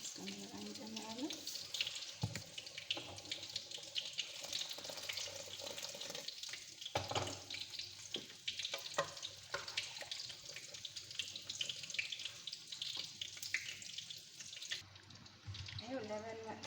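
A pot washed under a running tap: continuous splashing water with clatter and knocks of the pot against the sink, ending with a short break before the flow resumes.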